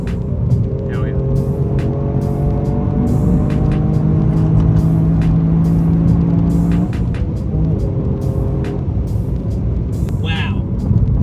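Engine and road noise from a 2022 Toyota GR Yaris Rallye being driven, a loud, steady drone with rising and falling engine tones through the cabin, alone without talk.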